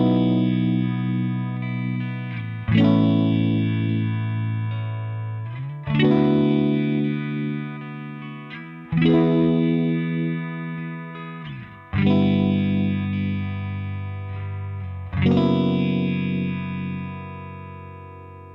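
Electric guitar runs through an Empress Effects Phaser pedal in auto mode, strumming five sustained chords at a slow, even pace. Each chord swirls and sweeps as it decays, loud and close with no voice.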